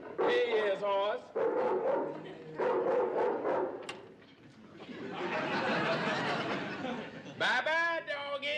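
A small toy dog yaps in short electronic bursts, alternating with people talking and chuckling nearby.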